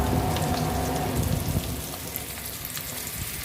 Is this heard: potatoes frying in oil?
yes